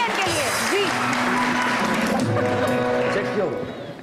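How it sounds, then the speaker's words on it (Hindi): An audience claps after a student's speech at a Quaid-e-Azam birthday program, with loud sustained applause under voices that fades near the end. "बहुत सारी तालियां इनके लिए जी।"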